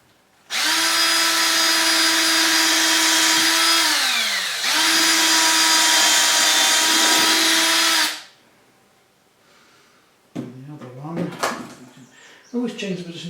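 Power drill boring holes through a taxidermy barn owl mount in flight pose, two long steady whining bursts with a brief pause between, then scraping and handling noises afterward.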